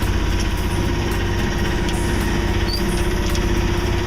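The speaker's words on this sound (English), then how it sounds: "Gave up on the wind, turned the engine on." A sailboat's engine runs steadily out on Lake Michigan, a loud, close, even idle-like drone with a constant low throb and no talking over it.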